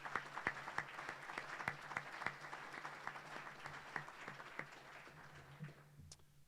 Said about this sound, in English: I just want to give Mr. Leanda Howery a round of applause and congratulations for his retirement